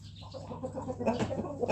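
A chicken with a hardened, rotting swelling on its head clucks in short, close, fairly quiet bursts, growing a little busier toward the end, with no talking.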